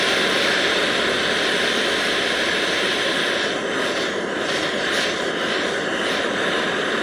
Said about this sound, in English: we're gonna hit it a little bit more with that map gas